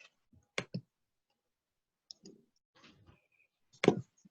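Isolated keyboard key presses on a computer: a few sharp clicks in short bursts, fairly close and quiet, with long gaps of silence between them.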